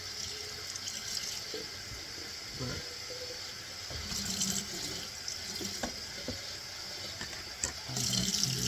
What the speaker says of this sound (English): I don't know if you can hear me over this running water